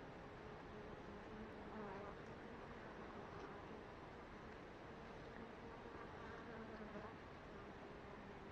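Honeybees in winter keep up a faint, steady droning buzz that runs evenly throughout, low and continuous with no breaks.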